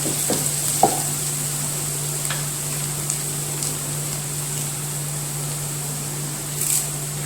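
Clam meat roast being stirred in a pan, with a steady low sizzle of frying and a few soft scraping strokes against the pan, close and continuous without any talking.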